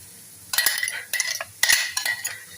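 A spoon scrapes and clinks against a pot as ground herbal paste is stirred into oil for hair oil, coming in several close, uneven bursts with quiet gaps between.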